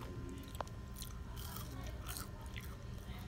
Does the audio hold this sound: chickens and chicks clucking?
no